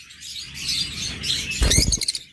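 Red-eyed lutino opaline birds chirp in thin, high tweets, with a short burst of fluttering wings toward the end.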